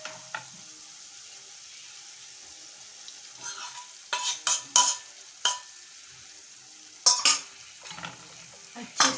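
Eggs are added to a masala frying on low heat for an egg chutney. A quiet background sizzle is broken by bursts of spoon scraping and clattering against the pan.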